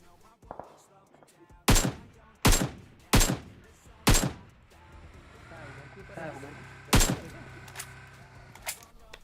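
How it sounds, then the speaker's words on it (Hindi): About six loud, sharp gunshots in PUBG Mobile ring out at irregular intervals over a low rumbling hum, with fainter pops in between. "और इतने में क्या होता है, वहां से गोलियां चलने लगती है।"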